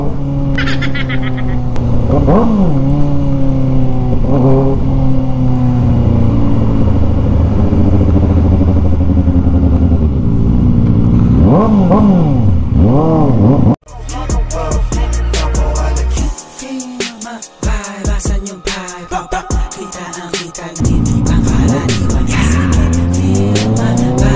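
A Kawasaki ZX-4RR sport motorcycle engine revs hard and loud up close while riding, pitch rising and falling through quick-shifter gear changes with auto-blip, with a brief choppy break midway before the roaring resumes.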